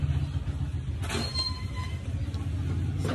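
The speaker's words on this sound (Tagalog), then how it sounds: "may mga tricycle na dumadaan kasi malapit kami sa may kalsada" Motorized tricycles pass on a road close to a home, making a low, steady rumbling drone that lasts throughout at moderate loudness, with no talking.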